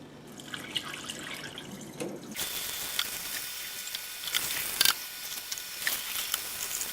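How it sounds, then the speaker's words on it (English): Soda ash water is poured out of a tie dye container, a steady splashing gush of liquid starting partway in and running on with drips and spatters, close and fairly loud, without talk. "so I guess we'll go ahead and pour this out and see what happens."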